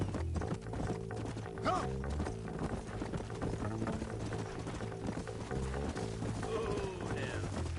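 Horses gallop in the Red Dead Redemption video game, with fast, rhythmic hoofbeats, an occasional whinny and a brief shouted call over the steady game soundscape.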